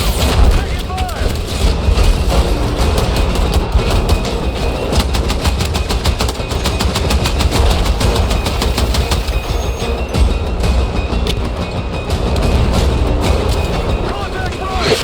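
Dense, sustained automatic gunfire in a Battlefield 6 combat mission, rapid rhythmic bursts layered over heavy rumbling battle noise and explosions, loud and continuous throughout.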